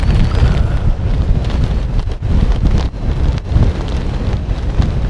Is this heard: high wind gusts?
yes